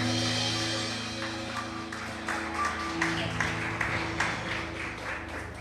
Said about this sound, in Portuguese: Você pode aplaudir ao Senhor Jesus nessa manhã.